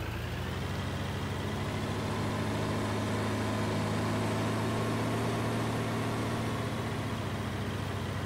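A tractor engine drones steadily in Farming Simulator 19 on the alpine map, a constant low mechanical hum with a faint whine that holds at an even level from start to finish with no speech.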